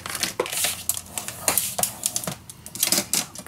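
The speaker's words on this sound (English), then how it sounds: "Then, we are going to score this half inch." A scoring tool runs across paper in a series of quick, sharp scratchy strokes and crinkles, close up with short pauses between them.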